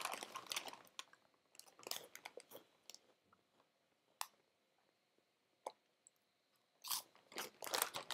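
Crisps eaten close up, a series of crisp crunchy bites and chewing bursts in irregular clusters, quiet pauses between, with occasional light clicks.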